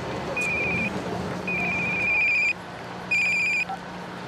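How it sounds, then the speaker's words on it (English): An old telephone line rings in bursts, set off by soil moisture sensors in a dry plant's pot, with three electronic trilling rings separated by short pauses over a low hum. "If the soil dries out, the sensors set off the phone lines."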